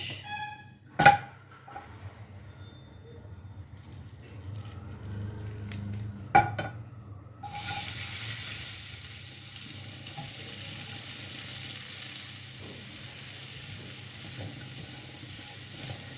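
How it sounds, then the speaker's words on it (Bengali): Onions fry in hot oil with nigella seeds and dried red chilli, first as a faint quiet sizzle with a few sharp clinks, then swelling into a louder, steady hiss; close by, with no talking. "পেঁয়াজগুলোকে খুব ভালো করে ভাজবো"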